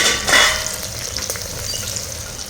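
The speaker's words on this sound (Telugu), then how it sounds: "ఉల్లిపాయలకు ఇలా కాలాలండి" Onions frying in a pan for a mutton tomato curry, a steady close sizzle with a louder stirring burst near the start, then a continuous crackle; no talking.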